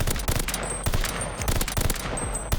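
Automatic gunfire in the first-person shooter game COD Vanguard, fired through a wall: rapid loud bursts of shots in quick succession, close and punchy, with no talk over them.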